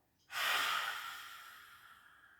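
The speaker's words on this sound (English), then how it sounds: "Inhale, exhale." One strong exhale through the nose during a yoga breathing exercise, a sudden close rush of breath that starts abruptly and then fades slowly over about two seconds.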